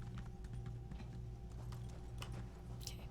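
Rhythmic clip-clop of horse hooves galloping in a video game, steady and fairly quiet over a constant low background hum, with no talking.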